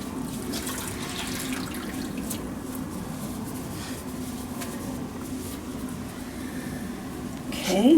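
Tap water runs steadily into a sink while a washcloth is rinsed during catheter care, a continuous close splashing flow with a brief louder gurgle at the end.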